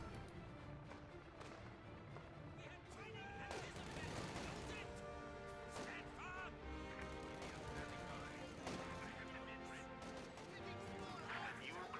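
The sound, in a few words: gunfire barrage in the video game Company of Heroes 2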